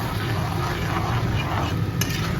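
Salt, turmeric, chilli and cumin fry in a pan with a soft sizzle and scraping stirs, close by, with a brief clink near the end.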